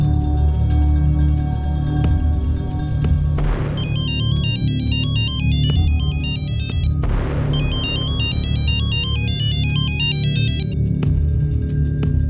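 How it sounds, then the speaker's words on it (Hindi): A mobile phone rings with a repeating electronic melody in two bursts, loud and close, with a steady background hum and no talking. "मैंने सलोनी के नंबर पे कॉल किया, रिंग जा रही है।"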